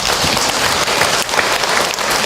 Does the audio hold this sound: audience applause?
yes